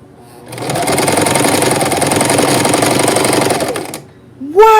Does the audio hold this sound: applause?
no